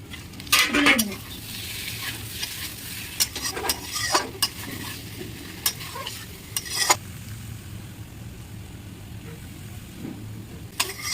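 Egg and potato curry sizzles in a pan in a village kitchen while a utensil stirs and scrapes it in repeated sharp strokes over a steady frying hiss, close and fairly loud.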